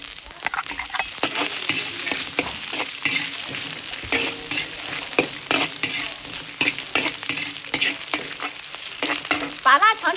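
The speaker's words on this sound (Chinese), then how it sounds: "把腊肠炒出油" Chinese sausage stir-fries in oil in a wok, with a steady loud sizzle and a quick, busy rhythm of spatula scrapes and clatters running throughout, with no talking.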